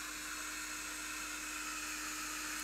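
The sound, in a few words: hairdryer drying acrylic paint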